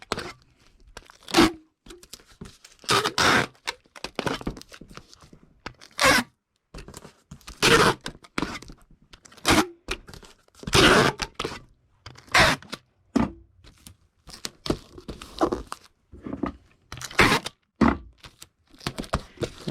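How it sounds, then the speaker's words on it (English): Packing tape being pulled and pressed onto a large shipping box, heard as a series of loud, close ripping screeches from the roll, separated by short pauses and softer rubbing and crinkling. "Alright, now let me get this taped up."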